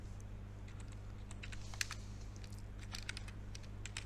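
Fast typing on a computer keyboard while writing Python code: a steady run of light, close key clicks over a constant low hum, with no speech.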